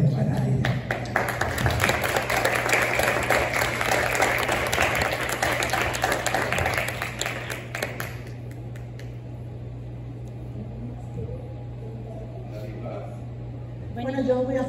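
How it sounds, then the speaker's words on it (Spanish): Audience applause at a lecture ends after about eight seconds, dense clapping over a constant hum, leaving quiet room noise with faint movement. "Un aplauso muy sincero para Aide."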